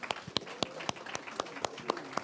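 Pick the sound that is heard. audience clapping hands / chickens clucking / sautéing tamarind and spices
audience clapping hands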